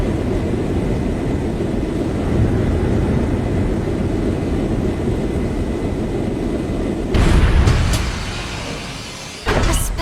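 A Special Ops Frigate airship in the Trails in the Sky video game arrives with a loud, steady rumbling roar that swells near the end, joined by brief bursts of mechanical noise.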